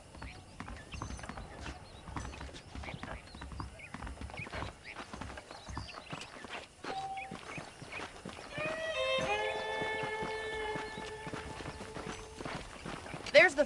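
Horse hooves clip-clop in Red Dead Redemption, a steady patter of steps running through the clip under background game sounds and a voice, with a brief whinny-like tonal burst near the end.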